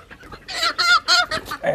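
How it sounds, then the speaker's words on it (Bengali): Several Sonali chickens clucking close by in quick, uneven bursts, fairly loud with short pauses between calls. "আমার মুরগিগুলোকে দেখতে থাকুন এখানে একটি মুরগি প্যাঁচ লেগেছে"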